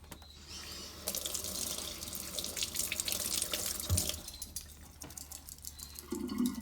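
Water pours steadily from a tap into a sink with a bright, hissing rush, shifting a little as a tobacco pipe is rinsed under it.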